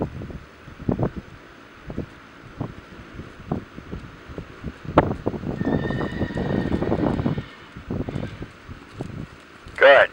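Horse whinnying outdoors amid wind noise, with scattered hoof clops and rustling, a clear neigh rising near the end; a person talks quietly underneath.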